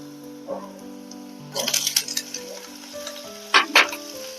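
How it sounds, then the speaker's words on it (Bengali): Prawns frying in hot oil with onions already browned red, a steady close sizzle broken by a few louder bursts of stirring and spattering, with no talking. "চিংড়ি মাছ দিয়ে এবার আমি চিংড়ি মাছটাও ভেজে নেব"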